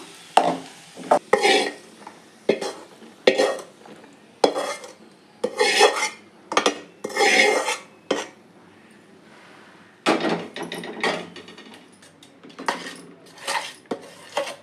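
A spoon stirs roasted semolina in a pan while rava laddu is made, scraping and clinking against the metal in irregular strokes close up, with brief gaps.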